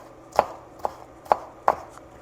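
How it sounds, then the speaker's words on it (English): Knife rough-chopping a yellow pepper on a board: four sharp, separate chops at an uneven pace, close and clear over a quiet room, with no talking. "So, just rough chopping."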